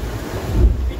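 Wind of about 30 knots buffets the microphone with a low roar while waves wash around a racing sailboat on the open Atlantic, loud and close, a brief rush of open water.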